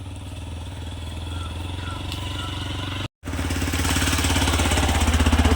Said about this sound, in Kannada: ಗಾಡಿ ಬತ್ತು